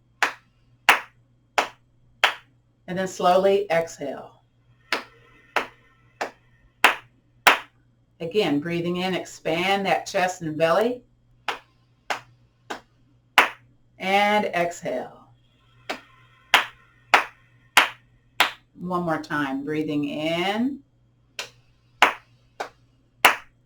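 Single hand claps land at a slow, steady pace, each one sharp and close, continuing through a chair yoga breathing exercise while an instructor talks over some of them.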